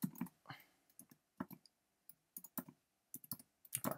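Fingers tap out code on a computer keyboard in short, irregular bursts of crisp clicks, close and fairly quiet, with brief pauses between keystrokes.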